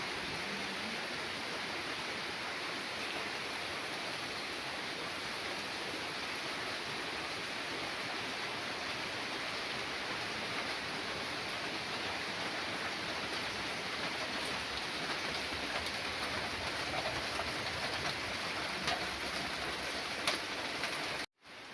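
Heavy Swati-season monsoon rain falls on a village road near Chandavara, a dense steady roar that holds evenly for about twenty seconds before cutting off, with no voices.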